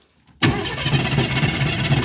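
A truck's 350 small block cranks on a 4500 amp portable jump starter, a sudden start into fast, steady rhythmic spinning, loud and close, with no firing heard.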